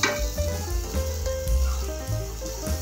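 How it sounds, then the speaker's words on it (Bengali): Rice frying in a pan, tossed so the grains stay separate, giving a steady close sizzle with faint scraping, stirring clatter and some low-pitched harmonic tones through the clip. "তো তার জন্যে ভাতটাকে খুব ভালোভাবে ভেজে নিতে হবে।"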